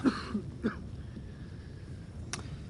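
A few short throat-clearing coughs near the start, then quiet room tone with a faint hum.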